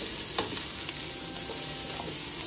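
Garlic and ginger frying in a hot pan with only a little oil, a steady dense sizzle throughout with a few soft stirring scrapes, close and continuous.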